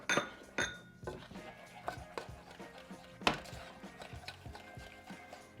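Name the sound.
mixing brown sugar, butter and powdered sugar in a bowl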